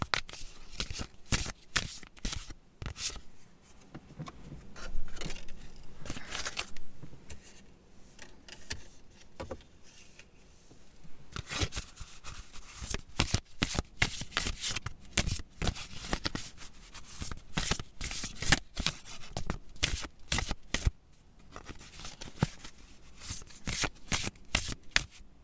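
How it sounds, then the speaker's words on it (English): A deck of oracle cards is shuffled close up, giving a long run of quick crisp riffles and soft flicks that go on almost without pause, with short lulls between bursts. "And I am shuffling, asking for the next card for October,"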